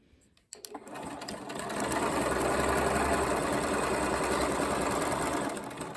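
Sewing machine zigzag stitching along a fabric edge for a dress starts after a click and runs as a steady, close, continuous motor whir with rapid needle chatter for several seconds before easing off.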